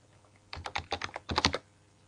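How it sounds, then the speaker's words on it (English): Fingers type a first and last name on a computer keyboard: two quick bursts of close, crisp keystrokes, the first about five taps and the second about four, in a quiet room. "I'm going to type in her first and last name"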